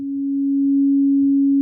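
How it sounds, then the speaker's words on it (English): A pure, steady low sine tone from the Soundiron didgeridoo sub-synth holds unwavering and loud for under two seconds, alone, swelling slightly at the start. "the subsynth basically just gives you like sine waves"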